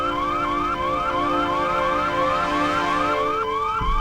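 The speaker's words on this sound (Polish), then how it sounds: "Odpalamy alarm pożarowy, że wybiegną." A fire alarm in the video game Hitman: Blood Money wails continuously, a loud, rising, sweeping electronic siren that repeats in steady cycles and fills the whole stretch alone.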